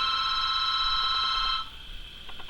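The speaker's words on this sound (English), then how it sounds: "there is someone on the phone, which I am not going to get" A house telephone rings with a loud, steady electronic trill that cuts off partway through, followed by a few faint ticking sounds.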